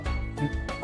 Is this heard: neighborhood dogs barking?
yes